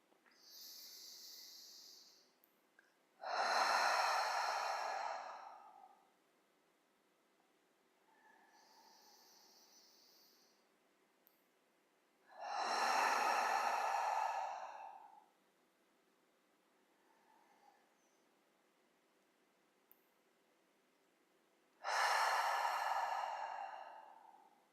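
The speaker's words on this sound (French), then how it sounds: "et en soufflant par la bouche" Slow, deep exhalations through the mouth during a guided compassion meditation, three long soft whooshing breaths spaced several seconds apart, close and quiet with faint room hiss between them.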